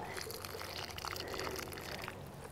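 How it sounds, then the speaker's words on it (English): Water pours steadily onto a melon plant in a garden, a continuous soft splashing and trickling at close range with no voices. "last bit of watering, melon"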